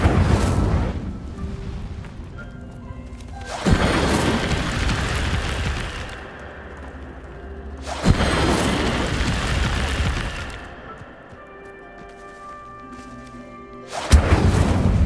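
Incendio fire spells cast in Hogwarts Legacy burst out in three loud whooshing eruptions, each a sharp onset that roars on for a couple of seconds before fading, the last cut short.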